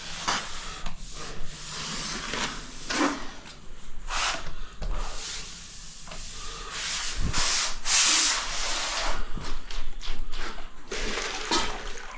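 Tile grout being wiped off with a sponge or cloth, steady close scrubbing and rubbing strokes with a wet, hissy texture, continuous and fairly loud, no talking.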